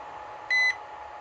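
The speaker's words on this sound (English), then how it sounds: "that's done one beep, and that's saying that that channel one there, fast charge done" A HOTA D6+ smart battery charger gives a single short electronic beep as channel one finishes fast charging, against a steady low hum.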